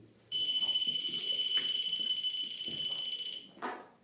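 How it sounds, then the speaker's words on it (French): A REM pod paranormal detector sounds during a ghost investigation in a factory: one loud, steady electronic beep tone lasting about three seconds, ending in a short final burst, with faint background noises. "c'est le REM pod ici qui a sonné."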